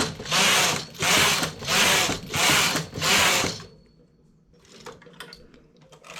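A hand knitting machine carriage is swept back and forth across the needle bed in five loud, even passes making a rhythmic mechanical whoosh, followed by softer scattered clicks and ratcheting as the machine is adjusted.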